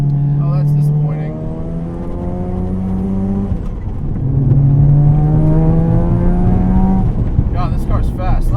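A modified 400+ hp 'FD' Mazda RX7 rotary engine revs hard from the cabin, its pitch climbing through two long pulls with a gear change between them, loud and droning, with someone talking over parts of it.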